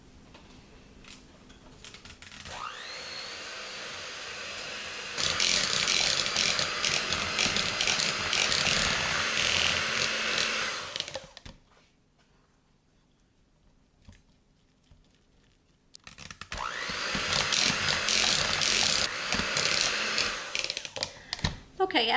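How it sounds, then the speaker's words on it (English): A handheld electric mixer whirs loudly as it beats cream cheese and butter, running in two long steady bursts separated by a quiet pause, with a softer start before the first burst. "take a hand mixer here. I'm going to blend this together for about 5 minutes until it's nice and creamy"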